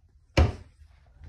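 A drawer in a house shuts with a single sharp thump, close and loud, then quiet follows.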